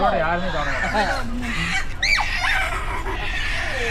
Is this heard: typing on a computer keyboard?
no